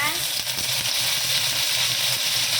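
Mustard seeds, urad dal, cinnamon and curry leaves crackle in hot oil for a chicken kuzhambu, a dense, continuous sizzle heard close and steady throughout.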